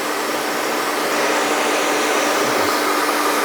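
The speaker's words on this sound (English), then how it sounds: "So, medium speed, high heat, you dry it from the bottom up into the top like this." Hair dryer blowing on medium speed and high heat while drying medium-length hair from the bottom up. A loud, steady, close airy roar runs unbroken throughout.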